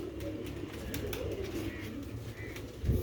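Sialkoti chhat pigeons coo in soft, repeated, low calls close by, with a brief louder thump near the end and no talking.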